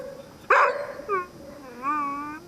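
A dog on a boat journey through the Northwest Passage gives a sharp bark followed by a series of rising, whining whimpers, close and fairly loud with no talk over it.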